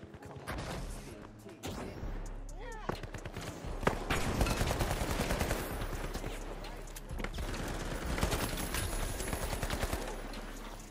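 Rapid automatic gunfire in the shooter game The Finals, sustained bursts of sharp cracks with brief pauses, loud and close, while players chat over the shooting.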